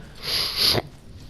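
A person sniffles once, a single drawn-in nasal breath close to the microphone lasting under a second, rising in strength before cutting off sharply, with quiet background after.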